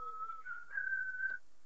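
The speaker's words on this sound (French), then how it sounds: "C'est lui là qui siffle ?" A person whistles a short rising tune, faint and somewhat distant, one sustained sliding note that swells then stops, over quiet background hiss during a family game session.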